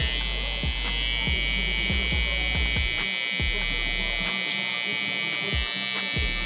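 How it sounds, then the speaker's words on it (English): A zero-gap barber's hair trimmer buzzes steadily and close during a high taper haircut, its tone shifting slightly as it passes over the head, with faint speech in the background. "And then I'm gonna flip that trimmer around and bald the rest of it out."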